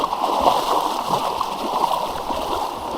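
Feet sloshing and splashing through knee-deep floodwater on the first day of a flood, a continuous busy churn of water close by, with faint voices now and then.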